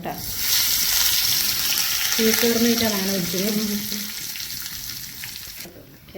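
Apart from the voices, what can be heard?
curry leaves added to spluttering mustard seeds in hot oil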